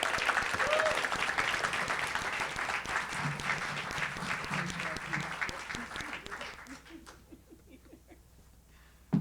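Audience applause fills a discussion event at Express Newark as a guest is welcomed to the stage, a dense steady clapping that slowly thins and fades toward the end.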